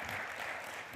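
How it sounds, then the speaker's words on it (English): Brief burst of congregation applause during a church service, a steady wash of hand clapping filling the whole second at moderate level. "Give her a hand clap."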